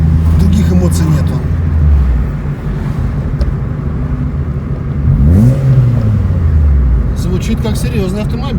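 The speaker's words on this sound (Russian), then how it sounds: "Звучит как серьезный автомобиль прям. Звук такой, выхлоп у нее стоит." A VAZ Lada car engine with an aftermarket exhaust revs near and loud, rising and falling in pitch twice, with speech heard over the rumble.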